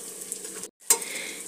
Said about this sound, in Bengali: দিয়ে আবারও পেঁয়াজটাকে ভালো করে ভাজা করে নেব।